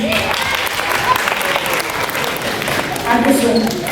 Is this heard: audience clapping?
yes